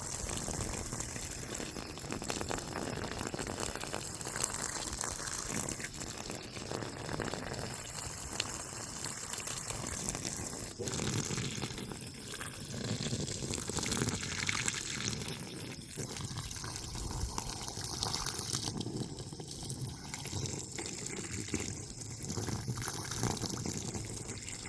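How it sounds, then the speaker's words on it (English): Water running and splashing continuously off a cheap $20 bug-out bag, a steady broadband wash of liquid at moderate level with no pauses. "Water's just repelling right off of it."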